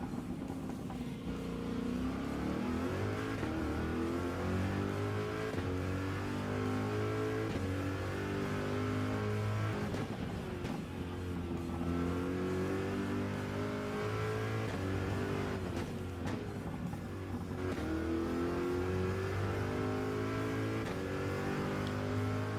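A race car in Gran Turismo 7 at the Red Bull Ring drones at high revs, its engine pitch climbing and dropping sharply through gear changes, loud and continuous throughout.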